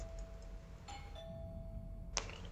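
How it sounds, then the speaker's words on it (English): A doorbell in the horror video game Within chimes with a few bright electronic tones, a sustained ding followed by a sharper strike, over faint background hum. "let's ring the bell and let's wait for him to open"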